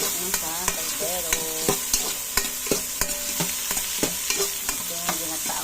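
Mussels simmer in coconut milk with kangkong in a cooking pot while a utensil stirs them. Regular scraping strokes sound over a constant close sizzle, with no voices.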